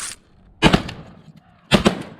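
Two loud, close shotgun blasts from a crow hunt over flocking decoys, about a second apart, each a sharp boom trailing into a short echoing decay.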